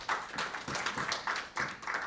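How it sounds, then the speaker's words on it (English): Audience applause at a business forum session, a dense sustained patter of many hands clapping for about two seconds, moderately loud with slight surges in intensity. "Give a big hand of clap"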